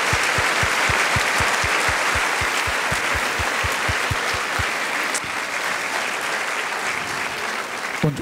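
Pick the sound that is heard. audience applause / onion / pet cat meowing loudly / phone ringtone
audience applause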